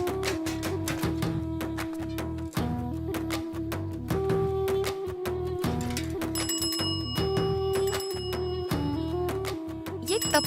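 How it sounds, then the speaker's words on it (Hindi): A bell rings repeatedly in a home, its tones recurring through the whole stretch over a dense backdrop of music and other sound, with no clear talk. "ये तब से घंटी कौन बजा रहा है?"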